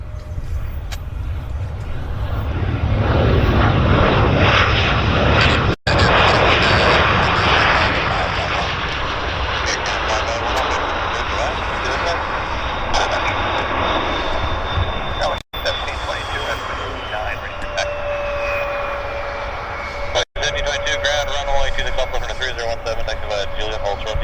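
An airliner rolls down the runway at Vancouver airport, its engine roar loud and broad at first, then a long whining tone that shifts and fades as it moves away, while people talk nearby.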